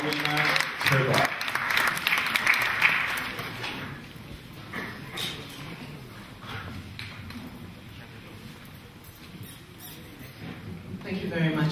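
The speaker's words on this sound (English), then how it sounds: "Ladies and gentlemen, a round of applause for Mrs. Mawuena A.Trebarh." An audience at a Ghana business event claps to welcome GIPC CEO Mrs. Mawuena A. Trebarh on stage. Strong clapping and voices at the start give way to softer, thinning applause with talk over it.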